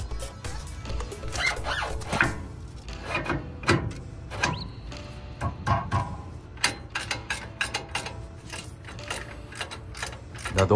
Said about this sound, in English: We're gonna go ahead and use a torque wrench to torque this.